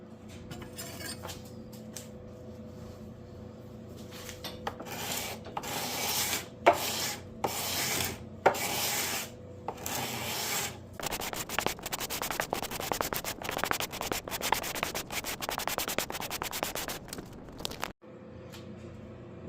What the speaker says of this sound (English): Scrapes off the paint.